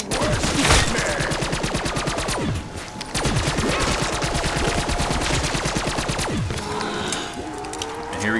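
The Death Machine minigun in Call of Duty: Black Ops 3 Zombies fires in a loud, sustained, very rapid stream that runs almost the whole time, with brief gaps and heavy impact bursts mixed in.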